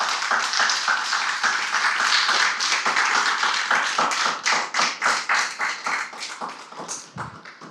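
A church congregation claps its hands in praise, brisk rhythmic claps from many people building steadily and then thinning out into scattered, fading claps near the end, with no voices over them.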